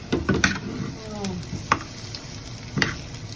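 Ginger goes into a frying pan of browned chicken feet, giving a low sizzle broken by sharp clinks and scrapes of a utensil stirring, several distinct knocks spaced irregularly, close by.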